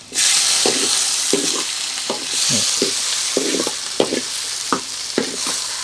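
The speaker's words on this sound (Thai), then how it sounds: "แล้วก็คั่วมะเขือเทศก่อนเนาะ" Tomatoes stir-fried in a pan over a rural home kitchen fire give a steady loud sizzle, punctuated by repeated scraping strokes of a spatula against the pan.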